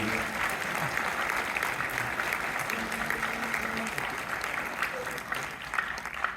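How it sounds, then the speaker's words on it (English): Audience applause for a high school symphonic band at a winter concert, a continuous wash of clapping from a crowd in a hall, moderately distant, with faint murmured voices underneath. "How about one more round of applause for Mr. Fancher and the Green Symphonic Band"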